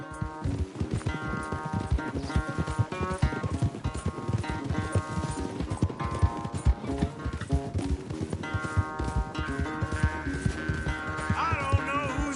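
A horse gallops in a race in Red Dead 2, with rapid, rhythmic hoofbeats close by over a busy game soundtrack, with a whinny-like tone near the end.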